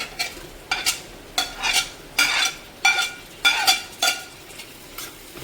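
Chopped tomatoes sauté in a pan for chicken biryani, with a soft sizzle under repeated rhythmic scrapes of a spoon stirring roughly every half second; no voices.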